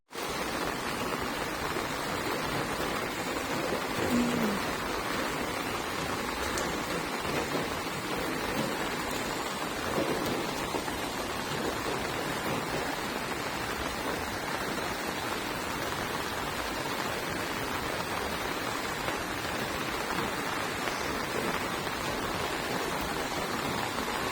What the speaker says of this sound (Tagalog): Alam, malakas ang ulan